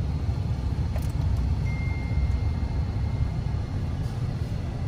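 A Dodge Ram pickup truck, a 2013 to 2015 model with about 114,000 miles, driving on the road: a steady low engine and road rumble heard from inside the cab, constant and fairly loud throughout.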